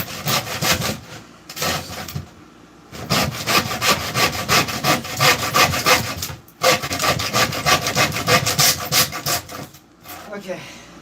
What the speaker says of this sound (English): sawing is done for this side, or for this part